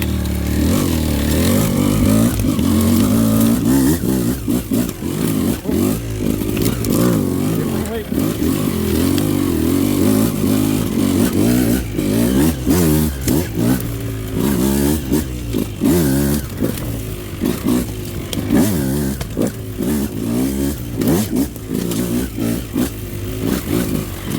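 Beta 200 race edition two-stroke motorcycle held in first gear, its engine droning loud and steady throughout with repeated throttle blips and revs, a rider's voice talking over it at times.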